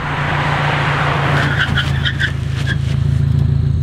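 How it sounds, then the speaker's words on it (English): A car brakes hard from 60 km/h on EBC Yellowstuff performance pads, with a steady loud engine and road roar and a few short, high tire squeals near the end of the stop. "So 60 kilometers an hour with the EBC yellow stuff brake pads."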